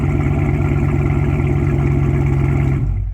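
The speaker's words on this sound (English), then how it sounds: "You get so much more of an attitude in this car with that exhaust." A muscle car engine and exhaust roar loud and close in a continuous, throaty rumble, then cut off abruptly at the end.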